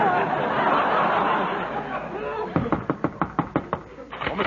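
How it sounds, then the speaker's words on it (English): Loud, rapid knocking on a door in an old Abbott and Costello comedy scene, about nine sharp raps in quick succession that follow a stretch of murmuring voices and light laughter. "This time he beat the door in."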